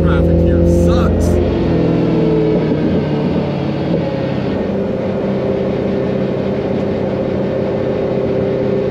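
A steady, loud engine drone of cars moving in Bangkok city traffic, with a rougher rumble early on and a continuous road hum throughout.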